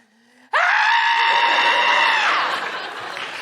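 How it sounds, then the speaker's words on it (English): A person lets out a single loud, sustained scream that starts abruptly and holds for about two seconds before fading, close and raw, with faint speech just before it. "I'm gonna have a quick scream in the corner"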